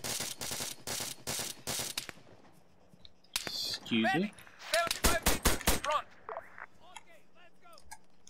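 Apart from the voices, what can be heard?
gunfire in a video game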